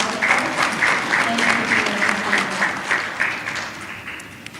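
Audience applause at a university graduation ceremony, steady crowd clapping filling the hall for several seconds, with faint voices underneath.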